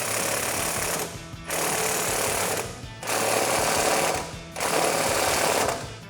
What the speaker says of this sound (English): next we're gonna tighten down our sway bar end link. Again, you're gonna need your 15mm socket and wrench for this